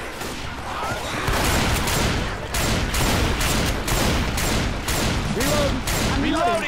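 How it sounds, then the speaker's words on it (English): Rapid, dense gunfire from a shotgun and other weapons in Left 4 Dead 2 pounds away in loud, continuous bursts, with a few brief pauses and a player's voice under the shooting. "Love this shotgun."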